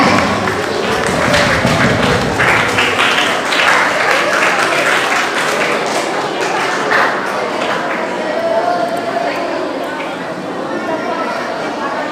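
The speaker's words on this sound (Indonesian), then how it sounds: "Beri tepuk tangan yang meriah." Audience at a school graduation ceremony applauding, dense sustained clapping from a large crowd that fills the whole stretch, with faint voices mixed into the noise.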